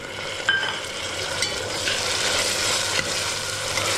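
Green peas sauté with garlic and onion in a pan for jeera rice, giving a steady close sizzle with a spoon or spatula scraping and stirring through it, and no voices.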